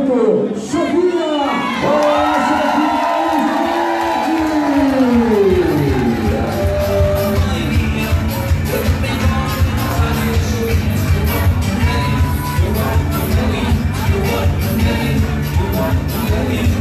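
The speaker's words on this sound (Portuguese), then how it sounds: "O nome dele todo mundo já conhece, Timé, vamos aplaudir ele, nosso vice-prefeito, Chaguinha!" A crowd at a Brazilian political meeting cheers and applauds loudly for a vice-mayor, with shouts and whoops at first giving way to sustained dense clapping that carries on steadily throughout.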